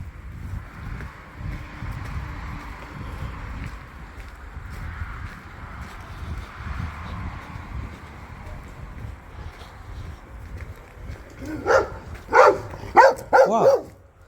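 A dog barks outdoors in a quick burst of several loud, close barks near the end, after a long stretch of wind rumble.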